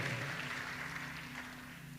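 A church congregation applauds during a service, a dense, fairly faint wash of clapping over a low steady hum, holding even throughout.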